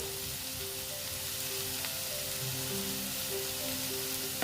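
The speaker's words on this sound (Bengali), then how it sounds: "পেঁয়াজের সঙ্গেও আমি একটু রসুন দিয়ে দিয়েছি দিয়ে ভালো মতন ভেজে নিচ্ছি" Onion and garlic fry in a pan, giving a soft, steady sizzle with faint crackles under a low background hum, with no voices.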